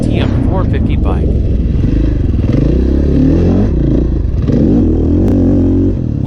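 KTM 450 enduro motorcycle engine running loud and close on a farm enduro track during practice day, a steady throaty drone with rising and falling revs throughout, with a voice talking over it.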